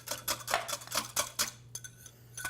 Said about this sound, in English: Let's give this just a little whisk